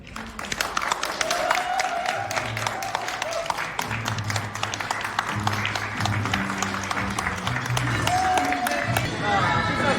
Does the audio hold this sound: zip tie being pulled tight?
no